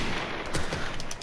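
Rapid pistol shots in Call of Duty MWR crack in a quick string of sharp bursts over dense, noisy game-action background, loud and close with no talking.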